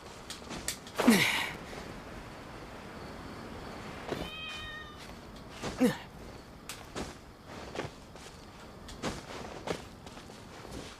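A cat in the video game Genshin Impact lets out a few faint, separate meows spread across a quiet stretch, mixed with soft footsteps and light clicks, with no talking.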